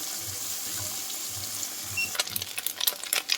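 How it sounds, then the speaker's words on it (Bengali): Small fish fry in hot oil with a steady, close hiss and crackle, punctuated near the end by sharper spits and pops, with no voices. "মাছগুলোকে একটু অল্প আগে ভালো করে ভেজে নেব।"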